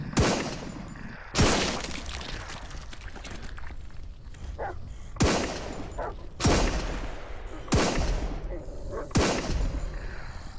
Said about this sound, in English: But we're gonna try this gun out.